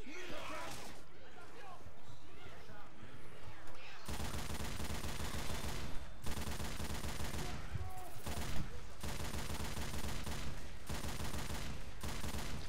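Heavy machine gun in Left 4 Dead 2 co-op on the swamp level, firing in long loud sustained bursts after a quieter opening, with short pauses between volleys and voices talking over the gunfire.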